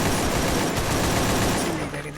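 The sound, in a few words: gunfire in a shooting video game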